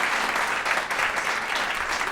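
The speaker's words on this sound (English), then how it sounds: "So we have one more round of applause for that." An audience claps steadily after a piano performance at a casual classical concert, a thick, continuous round of applause with no voices over it.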